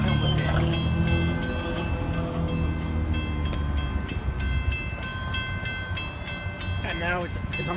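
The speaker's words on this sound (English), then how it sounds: "Here comes the train." Inbound MBTA commuter train passing the Albion Street crossing in Wakefield, Massachusetts: a loud, continuous roar of wheels and engine close by, with steady crossing bell dings ringing rhythmically throughout and a faint voice near the end.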